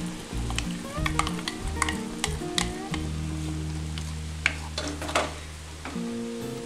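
A Kerala ripe banana curd curry, mashed and mixed with ground coconut, is stirred in a pan. A spoon scrapes and taps against the pan in a quick irregular rhythm over a soft bubbling sizzle, close up with no talk.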